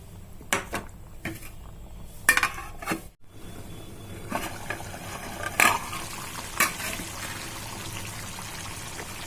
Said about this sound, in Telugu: కొద్దిగా కరివేపాకు కూడా వేసుకొని ఉడికించుకుందాం